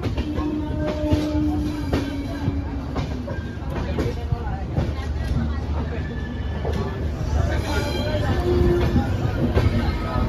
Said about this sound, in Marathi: तर गाईज फायनल ट्रेन चालू झालेली आहे